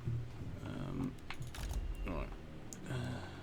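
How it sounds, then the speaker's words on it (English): A computer keyboard sits close to the microphone, and a cluster of sharp clicks and clattering keystrokes is picked up under a muffled speaking voice. "my microphone is in the way of my keyboard action"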